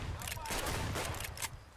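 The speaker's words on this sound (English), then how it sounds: "Gunshots everywhere. Flying concrete." Dense bursts of gunfire in the shooter game Escape from Tarkov crackle in rapid succession, loud and continuous with overlapping shots and impacts, accompanied by a voice.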